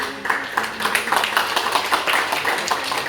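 An audience at a speech competition applauds a contestant, a lively close crowd of many hands clapping with rhythmic bursts and no pause.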